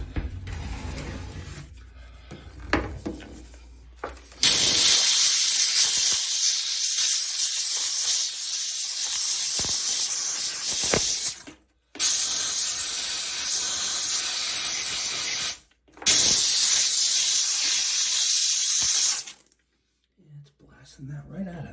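A Dupray Neat steamer blasts a shower stall with loud, steady hissing steam in three long bursts separated by brief pauses, with quieter mechanical handling and clicks before the first burst.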